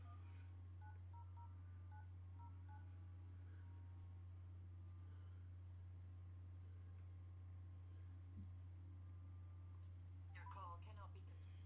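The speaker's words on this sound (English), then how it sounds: "Let me go to the regular phone and actually type it in." Tones from a landline phone keypad sound as a number is dialed, a quick run of short beeps near the start over a steady low hum, with faint speech and a brief clatter later.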